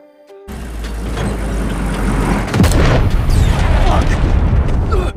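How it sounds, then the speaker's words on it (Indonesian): A car struck by a landmine in the film Cherry (2021) goes up in a sudden loud blast, and a deep sustained rumble with debris and crackling follows, with speech over it. "Mobil yang akan kembali ke base camp justru terkena ranjau"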